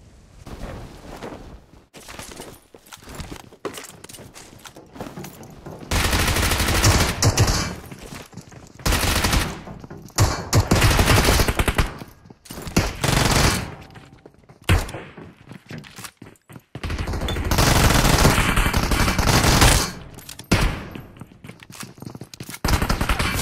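Bursts of automatic gunfire in the video game PUBG Mobile (BGMI), loud rapid volleys broken by short pauses, some long sustained streams of shots and scattered single thuds, close and dominant throughout.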